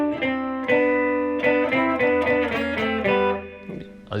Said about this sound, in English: the riff, which is kind of Spanish sounding, but he plays it in major and minor thirds